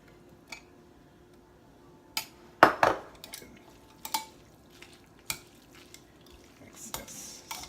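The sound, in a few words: stirring lemon garlic pasta sauce with tomatoes in pan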